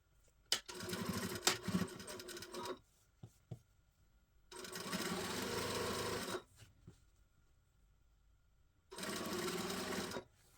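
Sewing machine stitching a trouser waistband runs in three steady bursts of rapid mechanical whirring, each lasting a couple of seconds, with quiet pauses and a few light clicks between them.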